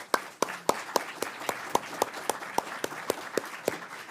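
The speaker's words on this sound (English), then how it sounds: "Can we have a round of applause for the panel" Applause for a panel at an employee ownership event, sounding as a thin, sparse clapping with distinct, evenly spaced sharp claps over a soft wash, fairly near and unaccompanied by talk.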